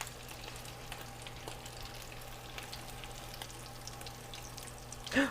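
Food with cheese fries in hot oil, giving a constant crackling sizzle with scattered pops and a sharp splash near the end, close up and alone.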